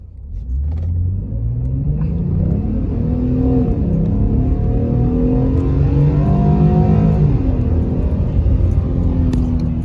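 A 2021 Ford F-150 pickup engine roars up from a standing start, revving steadily higher through several gear shifts, loud and close, with the rumble sustained to the end.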